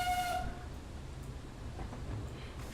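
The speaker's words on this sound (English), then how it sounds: "Let's give a whistle as we go through." Brief whistle from steam locomotive No. 7 on the Corris Railway, a clear tone at the start that fades into low rumbling running noise.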